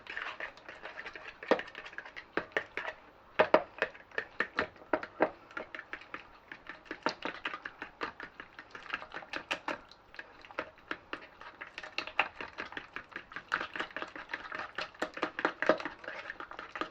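A whisk beats whole grain mustard and an egg together in a bowl, a fast, steady run of close, crisp clicks and taps that continues alone throughout.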